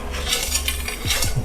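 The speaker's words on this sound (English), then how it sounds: "we're going to take our spatula and scrape up all the bits on the bottom of that" A spatula scrapes browned bits off the bottom of a pan after cooking pork chops, giving quick metallic scrapes and clinks over a steady background hiss.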